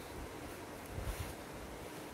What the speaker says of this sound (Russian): Видимо, ветер очень силен.